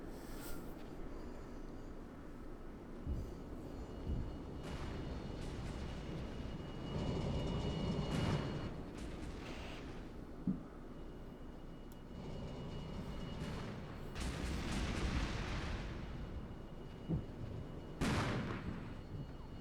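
Artillery and guns firing in the wargame Armored Brigade, distant thuds and scattered sharp reports over a steady low rumble, swelling and fading in waves, moderately faint with no voices.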